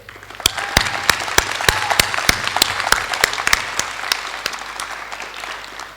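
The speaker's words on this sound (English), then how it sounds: "please join me in a round of applause to all your support that you have here today" At a 2022 secondary school graduation ceremony in Shenzhen, the audience breaks into applause, a few sharp claps up front swelling into steady crowd clapping that gradually thins out.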